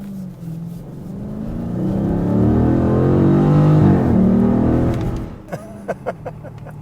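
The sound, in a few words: 2020 Dodge Challenger R/T Scat Pack V8 engine revving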